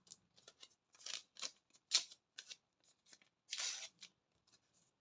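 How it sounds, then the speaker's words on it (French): Quiet crinkling and tearing of masking tape, short papery rips and rustles coming in irregular bursts, close by with no talking. "Et je viens prendre du scotch de masquage."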